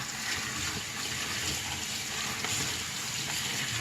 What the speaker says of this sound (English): So I rinse them off really well, and then I kind of like drain them or whatever.